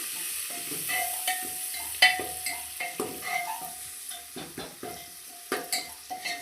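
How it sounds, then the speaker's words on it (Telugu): Mint leaves, with a few curry leaves, frying in oil in a pan, a steady high sizzle with intermittent scraping and stirring clicks from a utensil, close and moderately loud, no voices. "పుదీనా వేసుకోవాలి వేసి ఇది కూడా ఆయిల్లో ఫ్రై చేసుకోవాలి"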